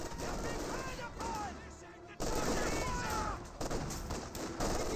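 Rattling machine-gun bursts and heavier thumps from an MG42 and mortars in the Company of Heroes 2 real-time strategy game, a loud continuous battle din with a caster's voice running over it.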